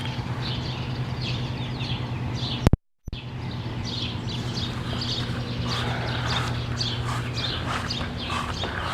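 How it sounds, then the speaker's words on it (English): Birds chirp and call at sunrise in Sugar Grove, Illinois, scattered repeated tweets over a steady low hum, with one abrupt cut of silence midway. "you can hear the birds silently."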